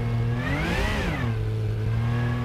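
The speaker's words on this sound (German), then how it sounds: "man hört den Porsche rausklingen" A Porsche engine in the Rennsport racing game revs up and falls back, loud and close with a clear rising and falling pitch, then holds a steady drone with no talk.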